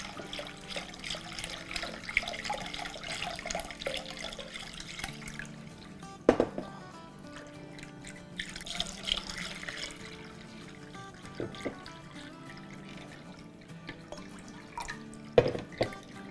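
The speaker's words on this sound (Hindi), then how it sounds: "ठंडा पानी डाल रहे हैं" Cold water pours and splashes steadily into a container of diluted tamarind for pani puri water, with occasional drips and clinks, fairly quiet and close.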